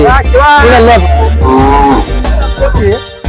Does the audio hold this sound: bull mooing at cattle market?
yes